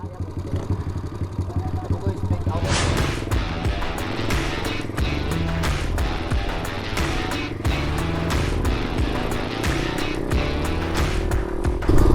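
A motorcycle engine runs loudly and continuously up close, a rough rumbling drone with people talking over it.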